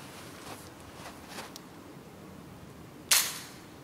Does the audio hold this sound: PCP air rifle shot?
yes